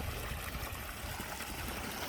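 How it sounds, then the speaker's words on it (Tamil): Irrigation water rushes along a field channel, pumped through a 75 mm pipe by a 1500 W BLDC motor, making a steady, close, broadband gurgling flow with no talk. "தண்ணி ஓடிக்கிட்டு இருக்கு வாய்க்கா பாசனம்"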